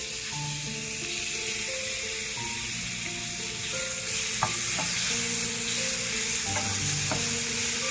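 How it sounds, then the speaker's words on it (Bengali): Chicken mince added to fried spice mix in a pan over low to medium heat. A continuous close sizzle with repeated stirring scrapes and occasional sharper clinks of the spoon against the pan. "মশলাটা ভাজা হয়ে গেছে এবার এর মধ্যে আমি কিমাগুলো দিয়ে দিচ্ছি"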